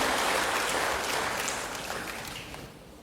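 A church congregation claps in applause, a dense, fairly loud patter of many hands that gradually fades over a few seconds, with no talk.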